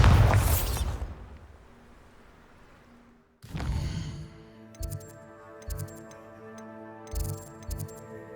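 A Bombarda spell blast in Hogwarts Legacy: a single loud burst after a brief burst of noise, followed by a ringing magical shimmer and several lighter thuds and sparkling pops that fade and recur, with no talk.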